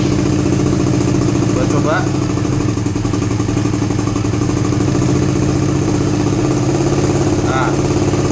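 A Suzuki GSX R150 motorcycle with a NOBI racing exhaust idles steadily, held at about 2000 RPM, with a continuous close, loud engine drone and someone speaking briefly over it.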